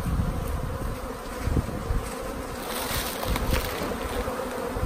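Honey bees swarm and hum around a hive that has just been shaken out during hive work, a dense continuous buzz close by, with individual insects droning past the microphone.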